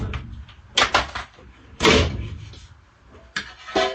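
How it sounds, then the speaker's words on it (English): Metal combustion compartment door of a Lennox furnace being handled and removed, with several clanking knocks and rattles at close range and quieter scraping between them. "take your combustion compartment door off"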